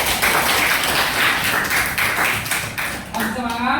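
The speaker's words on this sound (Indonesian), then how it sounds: "Tepuk tangan untuk kita semua." Students in a sixth-grade classroom break into applause, a dense burst of clapping that fills the room for a few seconds, with a voice speaking over the end.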